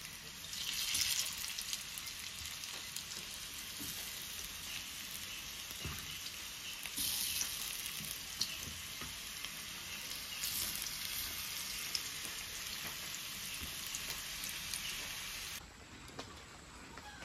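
Steamed alu vadi shallow frying, a long, dense, crackling sizzle close by that holds steady throughout and eases off slightly near the end, with faint clinks now and then and no voices.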